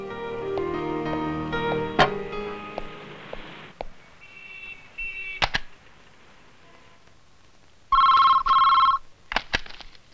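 A telephone bell rings in a scene from the Hindi comedy film Beti No. 1: two bright, loud ring bursts near the end, following softer music and scattered clicks.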